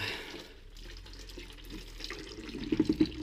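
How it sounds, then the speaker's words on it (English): Old coolant drains from a Ducati 848 motorcycle radiator into a bucket, a faint, steady trickle that grows into a louder, gurgling splash near the end. "I'll take the radiator cap off, fully take it out and drain it off"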